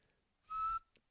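One short whistled note from a person, clear and fairly close, lasting about a quarter second amid quiet room tone.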